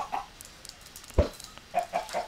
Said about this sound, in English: Sorry, chicken.